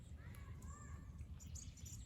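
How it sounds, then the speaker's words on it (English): Faint birds chirp and tweet in short, scattered calls in a school garden as light rain begins, over a soft low background hum, distant and quiet. "I hear some birds chirping."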